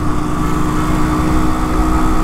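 An old military Royal Enfield Bullet, likely the 350, running with a loud, steady, close thumping engine note that holds even throughout, no voices.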